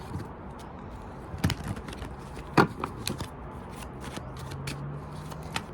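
Tarot cards riffle and slap together in a few short bursts, close by and fairly quiet, with soft handling noises in between.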